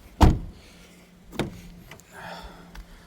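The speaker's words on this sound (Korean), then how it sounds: "운전석 오토원도 들어가 있고요. 전동미러 들어가 있습니다." The driver's automatic power window on a 2011 Kia K5 LPI sedan runs with a short motor whir and a thump, then a second whir and a soft clunk, heard up close inside a quiet cabin.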